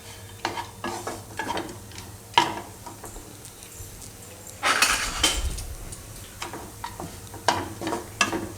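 Moong dal mixture roasting in a pan over a low gas flame for a Gujarati sweet shiro, with a spoon scraping and stirring in irregular clinks and a soft sizzle underneath, close and fairly quiet.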